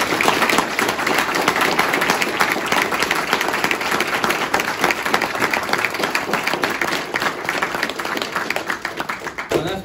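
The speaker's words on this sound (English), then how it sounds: "How about a big round of applause?" A large audience applauds a colonel with 21 years of Air Force service at a military coin ceremony, a dense, steady wash of clapping that fills the whole stretch, a few voices mixed in near the end.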